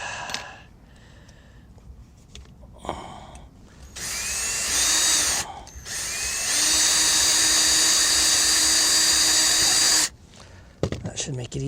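A power reaming tool whines steadily underwater as it widens a bolt hole on a boat hull, starting in short bursts and then running continuously for several seconds before stopping, with muffled bumps around it.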